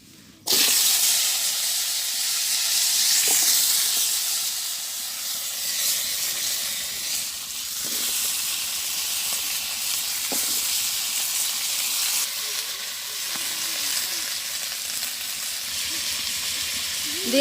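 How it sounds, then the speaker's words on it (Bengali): Pieces of sweet pumpkin drop into hot oil already seasoned with bay leaf and radhuni. A sudden loud sizzle follows and settles into a steady hissing fry, with occasional stirring clinks. "তো তেল গরম হয়ে গেছে, আমি এখন মিষ্টি কুমড়াটা দিয়ে দিই।"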